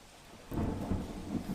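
A low rumble of thunder rolls in over a steady wash of unseasonal rain falling in Gujarat, loud and close, with no voices.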